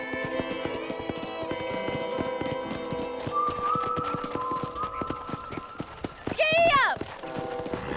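In the Red Dead Redemption video game, a horse's hooves clip-clop in a steady trotting rhythm, close and clear, with a brief whinny partway through and game music underneath.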